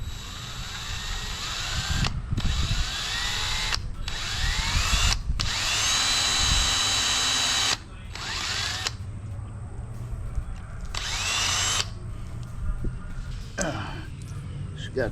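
Loud power drill whirring in bursts with brief pauses between runs, the motor pitch shifting as it bites into a screw, drilling it out, close by.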